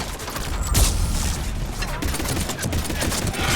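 A turret in the video game Mass Effect 3 lets off a sustained burst of rapid gunfire, loud and dense throughout, with mechanical clatter mixed in.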